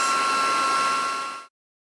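A heat gun blows a loud, steady whooshing hum while heat embossing a card, then cuts off abruptly partway through and leaves silence.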